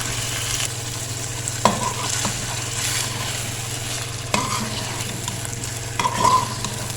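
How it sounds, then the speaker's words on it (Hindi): Chicken fries with ginger and garlic in a pan under steady stirring, a continuous close sizzle broken by occasional scraping knocks of the spoon, with no talking. "अब हमने इसको अच्छे से भूनना है इसके साथ।"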